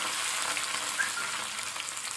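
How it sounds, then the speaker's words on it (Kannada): Cumin, onion and curry leaves fry in hot oil as a tempering for avarekalu (field bean) sambar, giving a steady, close, bright sizzle that holds evenly throughout with no voices. "ಜೀರಿಗೆ, ಈರುಳ್ಳಿ, ಆಮೇಲೆ ಕರಿಬೇವು ಹಾಕ್ಕೊಳ್ತಾ ಇದ್ದೀನಿ"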